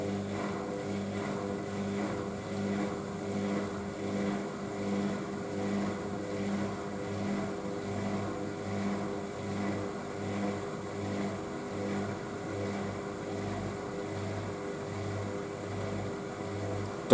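Indesit IWC6165 washing machine on its final spin with a load of dark coloured clothes: a continuous, even motor hum with a low pulsing drone, held steady and fairly loud throughout.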